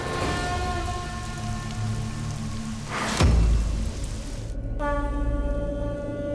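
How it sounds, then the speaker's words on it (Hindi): Torrential rain pouring steadily in a dense, loud hiss, with a brief heavier rumbling burst midway and a tonal hum running beneath. "इतनी मूसलाधार बारिश"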